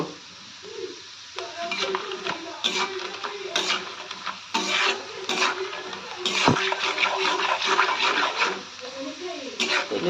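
Food frying in hot oil on lowered heat while being stirred, soft sizzling with scraping and clinking utensil strokes, and a voice talking over it throughout.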